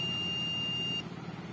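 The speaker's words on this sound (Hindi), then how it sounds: "और यहाँ पे ये ग्राउंड के साथ में ये देखो बजर चालू है" A multimeter in continuity buzzer mode beeps with a steady, loud tone while probing ground on a CRT TV board during repair, then cuts off abruptly after about a second.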